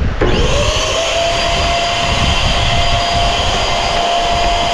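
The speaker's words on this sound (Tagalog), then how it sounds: "nagba-vacuum tayo. Bina-vacuum ko yung mga sapot." A vacuum cleaner motor starts up and runs steadily with a constant high whine and airy roar, loud and close, with no talking.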